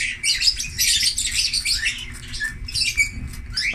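Busy, high-pitched chirping and tweeting from several birds being bathed, close and fairly loud, with splashing tap water noise underneath.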